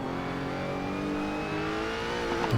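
Race car engine in Assetto Corsa holding a high, steady drone, the pitch easing slightly downward near the end, loud and continuous with no talk.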